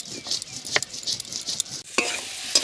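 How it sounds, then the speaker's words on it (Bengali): Ginger, cumin and mustard seeds fry in a pan for fish curry, giving a soft continuous sizzle broken by a few sharp stirring clinks and scrapes; close and moderately quiet, with no speech. "মশলা কত সুন্দর ভেজে নিয়েছি দেখুন, খুব সুন্দর করে ভেজে নিয়েছি।"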